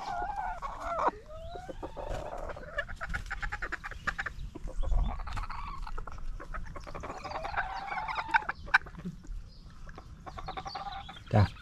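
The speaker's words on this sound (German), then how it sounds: "der Hahn macht das so komisch. Der lässt so knarzen." A rooster gives odd, creaking calls among clucking fowl, raspy rhythmic croaks repeating over a low background of farmyard noise on a quail farm.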